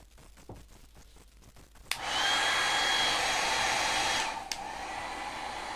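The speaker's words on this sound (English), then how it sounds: "Now we'll dry this with my blow dryer." A hair dryer switches on after a few soft taps, blowing with a loud steady whoosh, then drops slightly in level near the end.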